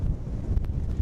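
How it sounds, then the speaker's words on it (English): Strong wind on the cliffs at RSPB Bempton Cliffs buffets the microphone with a constant low roar and uneven gusty thumps. "it is really windy today"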